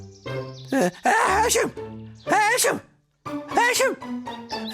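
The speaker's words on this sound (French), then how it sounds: "je n'arrête pas d'éternuer" Voiced, exaggerated cartoon sneezes come in several bursts, strongly vocal and close, with short gaps between them, set off by a sneezing herb.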